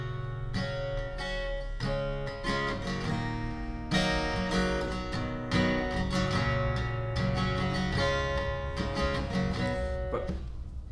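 Acoustic guitar plays a song, a steady strummed chord accompaniment with rhythmic strokes throughout, close and full, with no talk.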